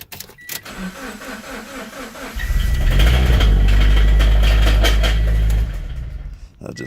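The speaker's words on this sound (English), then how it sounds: "I'm going to start the car for the first time today." A Scion FR-S with a blown engine cranking over and catching, then settling into a rough, loud, close idle for a few seconds before the engine shuts off.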